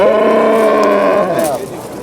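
A milking cow at the Piskent livestock market gives a loud, close, sustained moo that lasts nearly two seconds before trailing off, with crowd noise around it.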